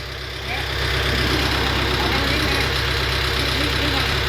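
A Kubota L5018 tractor engine runs steady and loud at a high idle after a rise in the first half second, powering a fabric beater attachment at a home in Si Wilai.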